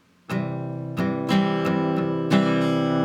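An acoustic guitar strums the rhythm of a song, playing about five crisp chord strokes in an uneven down-and-up pattern with ringing sustain between them, up close and without any voice.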